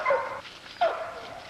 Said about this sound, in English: Here's some 8-week-old dogs